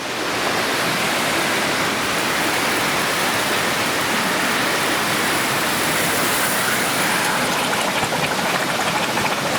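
A burning Albatros marine flare makes a loud, steady rushing and hissing roar with a bubbling texture, continuous and unbroken from start to finish.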